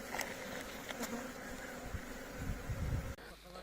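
Honeybees at an apiary in the Russian Far East, hive opened for inspection in early March, hum in a soft, continuous buzz with a few passing bees droning closer, quiet and steady before cutting off abruptly near the end.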